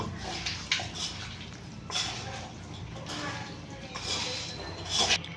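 Chicken curry being stirred in a cooking pot with a utensil, giving scraping, clinking strokes in uneven bursts against a steady low kitchen background.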